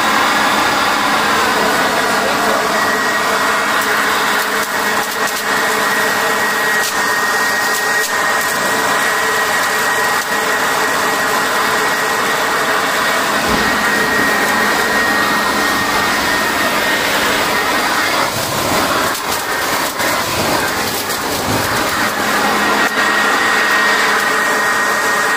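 Harbor Freight Portland 3-in-1 corded electric blower vacuum mulcher shredding sticks: a loud, steady motor and fan roar runs throughout, with rough grinding and crackling bursts as the wood is chewed up, and no talking.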